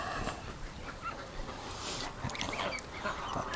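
A wounded pet duck honks and quacks faintly among other fowl in a yard, short scattered calls over a constant noisy outdoor background.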